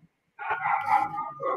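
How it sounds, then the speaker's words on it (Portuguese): Dogs barking at a home, a close, fairly loud burst of repeated barks and yips that runs for over a second after a short silence. "Os cachorros."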